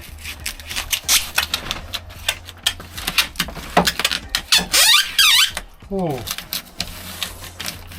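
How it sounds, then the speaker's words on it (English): Sound deadening is pressed onto the metal panels of a VW Caddy camper van, giving sharp, rising squeaks and rubbing taps, with a person talking in between. "I hope you don't mind squeaky noises"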